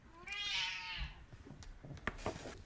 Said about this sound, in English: I had to put her away because she was meowing so loud.